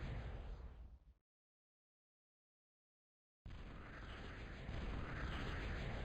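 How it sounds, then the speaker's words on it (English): Invader bombs exploding in a real-time strategy game: a dense rumbling blast that cuts out abruptly into silence, then a second sustained roaring wave of explosions returns loud and close. "And there are the invader bombs."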